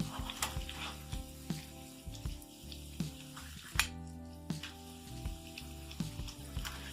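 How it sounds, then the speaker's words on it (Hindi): Potato fenugreek snacks fry in a pan with a soft, steady sizzle, punctuated by occasional light clinks and taps of a utensil; fairly quiet and close, with no speech. "बाकी भी इसी तरीके से हम फ्राई कर लेते हैं।"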